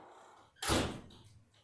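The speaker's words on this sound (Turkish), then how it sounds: "Hemen kapıyı niye açıyor?" A door swinging open in a home, one sudden loud thud-and-rush that fades over about half a second against quiet room tone.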